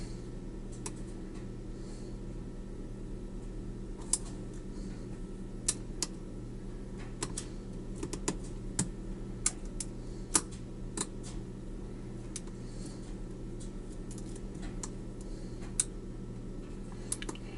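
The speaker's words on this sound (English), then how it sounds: "A little click out of pin 3. That was new. There's pin 2 now. A couple clicks out of pin 2." Small metallic clicks from pins being set while picking a West Coast Picks Arrow lock, sparse and irregular, close and fairly faint over a steady low hum.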